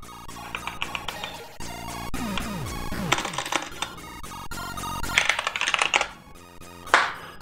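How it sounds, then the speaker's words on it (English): Computer keyboard typing in bursts of quick clicky keystrokes, fairly close and clear, with a few louder rattling clusters near the end and no talking. "It is really terrible when your computer doesn't perform well enough to actually keep up with your typing."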